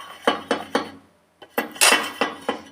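Metal steamer trays are handled and stacked in a home kitchen, a sequence of close, sharp clanks and clinks in irregular rhythm, with a short pause before a louder cluster of metallic knocks.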